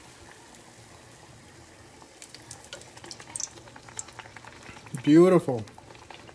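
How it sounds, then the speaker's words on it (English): Oreos fry in hot oil with a soft, steady crackle and bubbling throughout. A person speaks briefly near the end. "So I'm going to let it fry, probably about a minute on one side"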